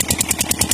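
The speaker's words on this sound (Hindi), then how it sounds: "ये भाई साहब इंजन चल रहे है गैस पे" Farm engine running on a gas cylinder instead of diesel: a steady, rapid chugging idle with regular pulsing beats about ten per second, loud and close.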